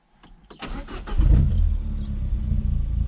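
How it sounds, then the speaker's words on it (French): A Peugeot 208 GTI 200 hp with an Akrapovic full-tube exhaust cranks briefly and fires up, settling into a loud, deep idle close by. "on va démarrer la bête"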